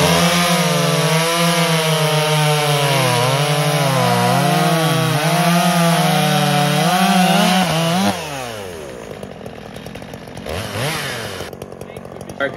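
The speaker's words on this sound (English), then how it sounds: "Let's show this video of the Stihl 250 versus the Poulan 295. 45cc Stihl versus a" Stihl 250 (45cc) and Poulan 295 (46cc) chainsaws cut wood with a loud, strained engine whine that wavers under load, then the revs drop and sputter as the cut ends, leaving a rougher, lower running sound.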